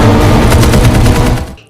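Rapid bursts of film gunfire crackle in quick succession, loud and dense, before cutting off abruptly at the end.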